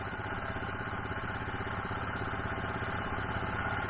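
A tractor engine idles while warming up outdoors on a chilly, windy day. It gives a steady, close, low rumble with an even throb that stays constant throughout, and no one speaks.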